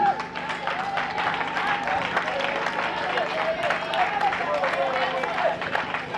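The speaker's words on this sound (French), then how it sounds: "On applaudit pour Kala Lembe Divine." An audience at a school awards ceremony claps in dense, continuous applause, with music playing in the background and crowd voices mixed in.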